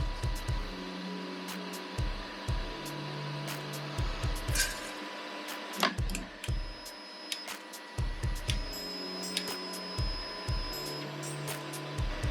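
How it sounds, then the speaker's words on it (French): A kit-built 3D printer runs its startup process with repeated mechanical whirring bursts, buzzing motor steps and clicks in a regular stop-start rhythm, close and moderately loud, with faint high tones. "l'imprimante vient de lancer le processus de démarrage"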